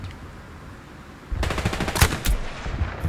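Machine gun fire rattles in Hell Let Loose, a rapid burst of loud close shots starting abruptly after low ambient battlefield noise, with a few sharper cracks standing out.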